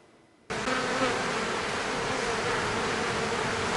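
Honeybees swarm around their hives at an apiary near Agen, France, a dense, loud, continuous buzzing that starts abruptly after a short quiet moment and holds steady from then on.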